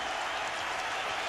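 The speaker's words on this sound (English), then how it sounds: "gets a hand from the crowd" Arena crowd at a 2004 NBA West Finals playoff game between the Timberwolves and Lakers applauding a player, a dense continuous wash of clapping and cheering from many people throughout.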